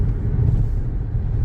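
A very sporty, fun car heard from inside the cabin while driving, a steady, loud low engine and road rumble droning without break.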